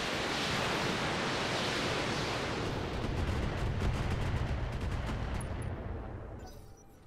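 A heavy barrage of mech weapons fire in the RogueTech BattleTech video game, a dense, roaring wall of blasts and rumbling explosions sustained for several seconds before tapering off, with no talk.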